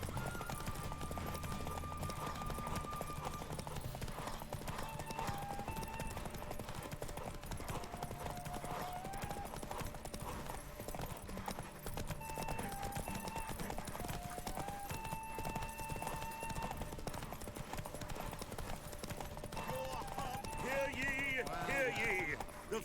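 Roach, Geralt's horse in the video game Witcher 3, gallops in a derby race with a steady clip-clop of hooves, set against game music and talk.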